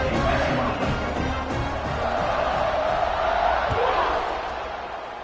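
A stadium crowd cheers at a football game after a long scoring drive, a broad steady roar with loud whoops, heard under continuous commentary.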